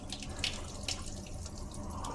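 Water pours and splashes steadily as cooked rice is drained through a strainer in a home kitchen, a continuous close rushing with no talking.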